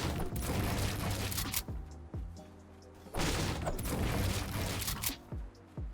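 Shotgun shots in Fortnite ring out as a few loud booming blasts amid dense clattering building and editing sounds, heavy and up close.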